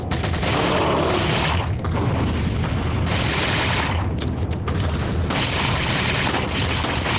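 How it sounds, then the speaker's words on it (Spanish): Loud, dense bursts of rapid gunfire from two guns in Resident Evil 4 VR, near and continuous, with brief gaps between sustained volleys. "¡Disparo con mis dos armas!"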